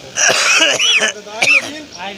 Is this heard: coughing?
yes